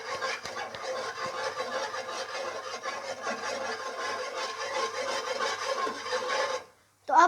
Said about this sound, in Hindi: अब हम इसे अच्छे तरीके से मिक्स कर लेंगे।